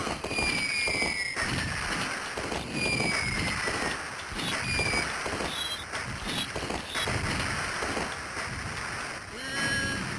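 Cannons firing in the Midway Arcade Origins arcade game Rampart, a run of loud booming blasts and crackling bursts over continuous game noise, with whistling tones sweeping through.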